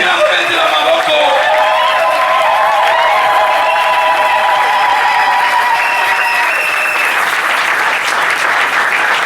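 A church congregation cheers and applauds loudly and steadily, a dense wash of clapping with raised voices running throughout.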